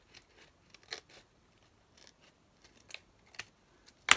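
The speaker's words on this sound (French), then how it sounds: "Ici, je vais découper là parce que ça dépasse un peu." Scissors snip paper to trim an overhanging edge on a handmade scrapbooking card, made as a few short, quiet, separate cuts with pauses between them and no talking.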